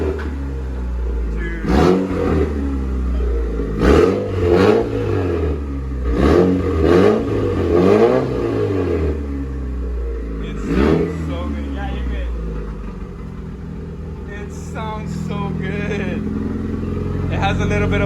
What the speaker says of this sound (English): then we'll actually rev it to see how it sounds.